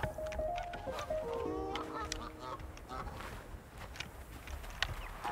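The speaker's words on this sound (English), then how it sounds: "There's a duck." Ducks in the video game Blanc let out a few quacks and honks near the start, faint against a quiet outdoor ambience with scattered soft clicks.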